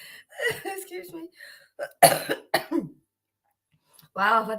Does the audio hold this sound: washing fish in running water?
no